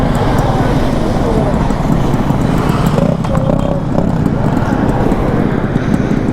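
A Yamaha RXZ original 5-speed two-stroke motorcycle being ridden, its engine a steady, loud buzzing drone throughout with road and wind noise.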